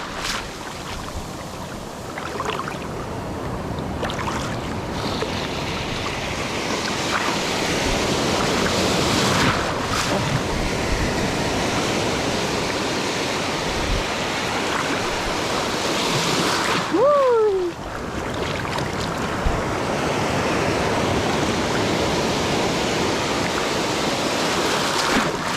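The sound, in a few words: big ocean waves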